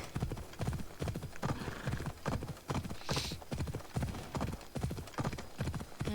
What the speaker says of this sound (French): j'entendais les pas du cheval là-bas